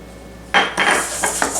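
Graham crackers, butter and sugar mixed in a bowl for a no-bake butterscotch pie crust: a few loud clinks and scrapes of a utensil against the bowl in quick succession, with no voices.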